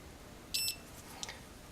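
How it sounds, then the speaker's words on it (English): Two short, high electronic beeps from a continuity tester confirming a connection, the first slightly longer, the second a quick chirp, against faint background hiss. "beeps, it means it's got a connection"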